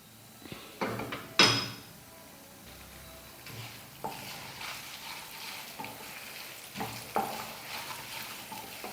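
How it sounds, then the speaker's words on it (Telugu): Coriander seeds fry in oil for a curry leaf karam, with a soft sizzle under clinking, scraping stirs of a spoon against the pan that come in a few distinct bursts. "వీటిని ఆయిల్లో మనం కొంచెంసేపు ఫ్రై చేసుకుందాం."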